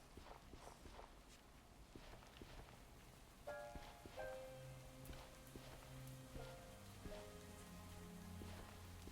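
Rainfall pattering on the ground in the blocky sandbox game Minecraft, a steady soft patter with scattered footstep-like crunches on gravel, under faint tonal game music, no talk.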